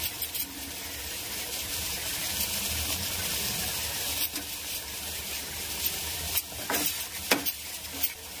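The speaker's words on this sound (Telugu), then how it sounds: "దీన్ని కొంచెం వేగనిద్దాం." Masala fries in a pan after salt is added for a prawn curry, a steady close sizzle with occasional stirring scrapes and sharper clinks toward the end.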